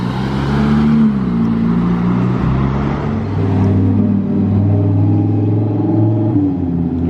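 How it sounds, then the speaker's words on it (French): A Lamborghini Huracan Evo with aftermarket exhausts on a Monaco street, its engine giving a loud, steady low rumble with shifting pitch as it idles and revs nearby. "Huracan Evo avec les pots là"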